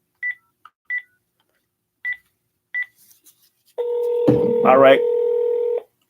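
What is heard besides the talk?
telephone dialing and ringing on a phone line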